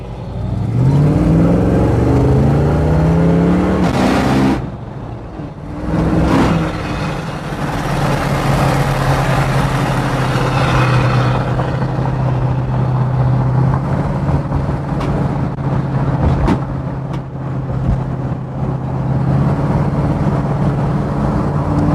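Engine of a 1967 Ford Mustang Fastback, a revving burst that drops away, then a steady rumbling idle with a low hum, close and alone.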